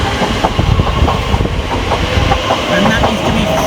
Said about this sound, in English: next out the 1505 Elizabeth Line service from London, sorry, Shenfield through to Heathrow Terminal 5